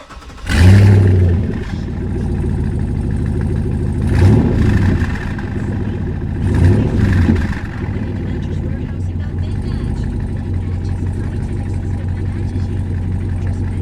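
A 1967 Corvette with an LS3 V8 fires up loudly, then settles into a deep burbling idle broken by two sharp revs, close by, with people talking over the engine.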